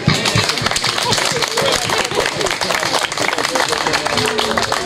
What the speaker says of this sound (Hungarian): mindenki megérdemel egy nagy tapsot